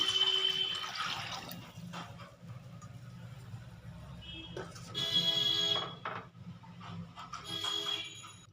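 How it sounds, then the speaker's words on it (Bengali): Water poured from a cup into a cooking pot over pulao rice, four cups in all, comes in two splashy bursts of moderate loudness with quieter kitchen background between them. "এই কাপে চার কাপ জল দেব চার কাপ জল দিয়ে দিলাম"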